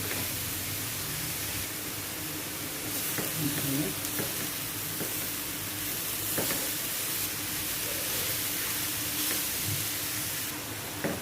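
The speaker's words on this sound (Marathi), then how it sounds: "मी आता सर्व एकजीव करून घेते" Jaggery filling for ukadiche modak is stirred in a pan, a steady sizzle and bubbling hiss with repeated scraping strokes of the spoon running throughout at close range.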